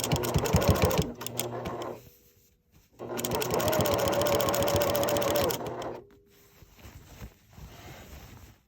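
A sewing machine runs in two bursts of stitching along a seam of a men's shirt being made into a ruffled top, guided by the presser foot. Each run is steady and loud, separated by short pauses with faint handling sounds.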